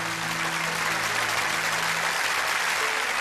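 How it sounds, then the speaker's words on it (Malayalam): Audience applause in a church for a girl named Christina after she receives a gift, a steady dense wash of clapping that stays loud and even throughout, with faint tonal hum beneath. "അച്ഛൻ ക്രിസ്റ്റീനയ്ക്ക് നല്ലൊരു കൈയടി."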